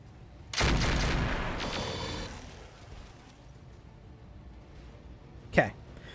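A short burst of rifle fire in the mech combat game RogueTech, three shots rolling together into a loud crackling volley, followed by a quieter stretch and one sharp, distant report near the end.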